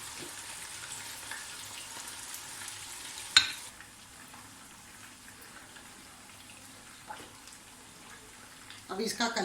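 Curry leaves, black cardamom, four cloves and whole black peppercorns fry in hot oil for a chicken salan, giving a steady close hiss with a sharp crackle burst near the start and stirring clatter toward the end; no talk over it.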